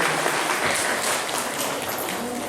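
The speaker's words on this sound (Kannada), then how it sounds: "ದಯಮಾಡಿ ಚಪ್ಪಾಳೆ ಮಾಡಿ" An audience at a felicitation ceremony claps together in a dense, continuous burst of applause, close and fairly loud, lasting the whole short stretch with no voice over it.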